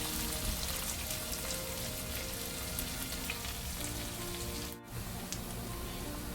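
Onions sizzle steadily in a hot pan for a prawn biryani, a dense, continuous frying hiss with no talk, briefly cut off near the end before resuming.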